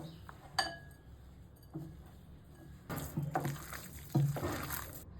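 Flattened rice (chira) being hand-mixed with salt, turmeric, sugar, besan and chopped coriander in a bowl: soft rustling and squishing, with a few light clinks against the bowl, close by and fairly quiet.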